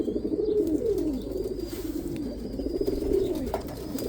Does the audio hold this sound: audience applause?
no